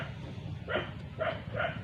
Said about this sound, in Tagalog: pasensya na mga bro doon sa ingay ng aso ha.